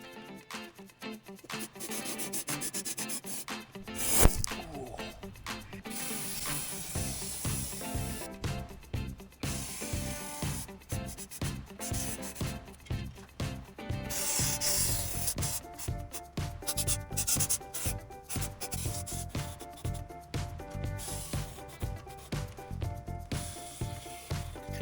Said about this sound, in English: I wanted to start with the inside of the boxed frame, so I attached the 360-degree extension nozzle.